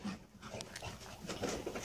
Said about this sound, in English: You stupid dog.